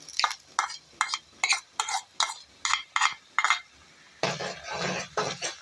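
Chopped tomatoes stirred into golden fried onions in a pan, a utensil scraping in a steady rhythm of about a dozen short strokes, then a longer, denser burst of stirring and sizzle near the end.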